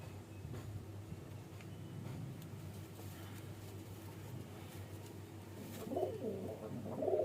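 Andhra tippler pigeons coo softly in a loft, the calls emerging near the end over a steady low hum and faint background rumble.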